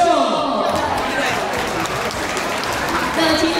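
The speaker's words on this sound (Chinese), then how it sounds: "热情掌声哦" A crowd at a Lunar New Year gala claps loudly and steadily to welcome a variety performer, warm sustained applause with a voice speaking over it.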